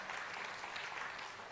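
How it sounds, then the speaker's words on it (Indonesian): A church congregation applauds during a sermon, a dense, steady wash of clapping from a large crowd throughout, with no voices on top. "Tuh kan tepuk tangan."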